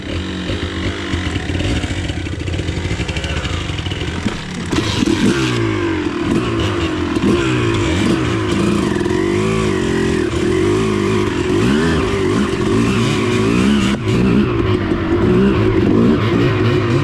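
Suzuki RM250 two-stroke dirt bike ridden through thick mud, its engine loud and close with a sharp rise in revs partway through, then sustained rasping revving and throttle swings.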